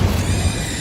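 The Incendio fire spell from Hogwarts Legacy gives a brief, loud, rumbling whoosh of flame, close and alone.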